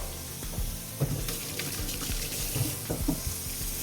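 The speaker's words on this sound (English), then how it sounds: "You're gonna hear them sizzle, just like that." Skillet hash sizzles and crackles steadily in bacon fat in a hot pan, with occasional soft clinks and stirring sounds close by.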